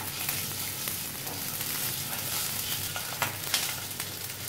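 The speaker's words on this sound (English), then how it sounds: "Fry for a couple of minutes. Fry on low heat." Duck eggs fry in oil on low heat for an egg curry, making a steady close crackling sizzle with faint pops and light stirring, with no talk.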